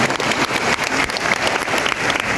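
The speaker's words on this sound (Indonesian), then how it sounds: "Tepuk tangan untuk kita semua." Dense, steady applause from an audience at a scholarship reunion gathering for madrasah and Islamic boarding school students, loud and continuous throughout without pause.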